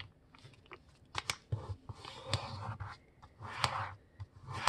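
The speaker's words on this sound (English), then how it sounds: "After I fold the paper, I will unfold it." Sheets of paper being folded and pressed flat while shaping a paper airplane, giving a string of close crisp rustles and sharp creasing crackles in short bursts, with no voices.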